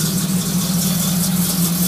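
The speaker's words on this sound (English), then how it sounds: "You can hear that exhaust on it." A 1986 Chevrolet Camaro Z28 IROC idles steadily through its stainless steel exhaust, a 2-into-1-into-2 layout like the factory system. The deep, even rumble sounds close and continuous, with a slight rattle.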